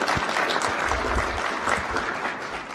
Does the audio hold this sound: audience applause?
yes